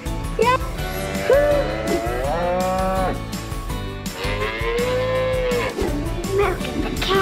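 Cow mooing loudly and continuously in a children's farm-animal cartoon, with long drawn-out moos laid over a steady music track.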